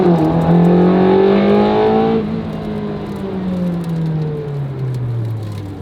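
Ferrari 360 with a V8 engine pulls hard close by, a loud rising roar that shifts up partway through, then settles into a falling, steady drone with road noise.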